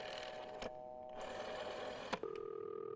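A phone being dialed in the video game This Bed We Made: rapid mechanical clicking and whirring, a sharp click, then a steady electronic tone, faint and close.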